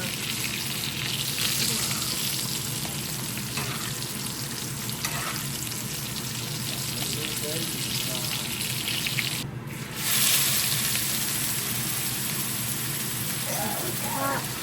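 Steak searing in a pan of hot butter, producing a loud, continuous, close-up sizzle with spitting crackles that swells for a moment near the end.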